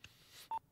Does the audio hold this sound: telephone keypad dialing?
yes